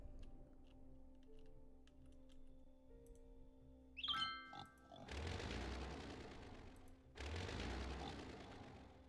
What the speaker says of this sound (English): I hear pigs.